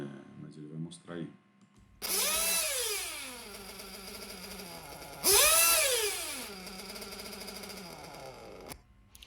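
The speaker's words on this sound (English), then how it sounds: "So I'm revving the engine, and then it seems like the idle doesn't settle, and then it goes way down." A 1/8-scale RC nitro engine with a lean low-speed needle revs twice in sharp, screaming bursts that rise then sag back toward an uneven idle, loud and close, after a brief spoken moment at the start.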